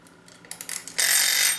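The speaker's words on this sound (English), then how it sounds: "It beeped!" A kitchen timer goes off, a loud steady electronic beeping that swells in after a few softer clicks and ticks, heard alone with no talking.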